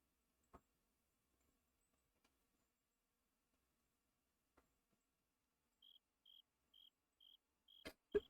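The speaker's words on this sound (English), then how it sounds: "Indeed, crickets, indeed." Crickets chirp in the Midnight Suns video game, a short run of about six evenly spaced, faint high trills near the end, with a few soft clicks earlier and quiet otherwise.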